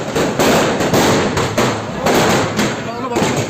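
Rapid bursts of firecrackers set off on top of a car crackle and bang loudly in a quick, uneven series, echoing sharply nearby.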